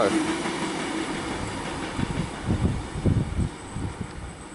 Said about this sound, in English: We've got a train arriving.